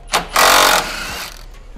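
Ratchet wrenches on 19 and 17 mm bolts click loudly as a car's front sway bar is unbolted during an upper control arm swap, with a short burst followed by a longer, steady run of rapid ratcheting.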